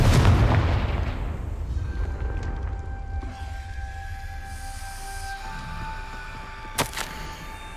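A Confringo explosive spell cast in the Hogwarts Legacy video game lands as a loud booming blast at the start, then fades into a long rumbling tail with steady tonal hums and a brief pop near the end.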